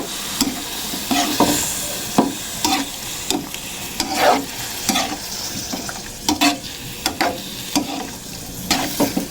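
Squid adobo being stirred in a hot pan, with a steady sizzle under repeated scraping strokes of a spoon against the pan, close and fairly loud throughout, with no talking.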